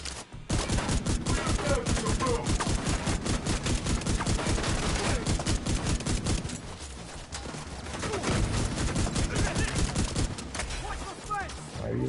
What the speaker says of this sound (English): All these shots.